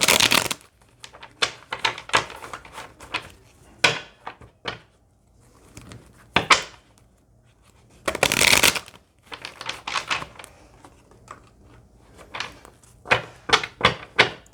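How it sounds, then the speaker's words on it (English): Tarot cards are shuffled close up in irregular bursts of riffling, flicking and tapping, separated by short pauses, with a couple of louder rustling surges, and no voice over them. "let me get some shuffles and we're going to clarify"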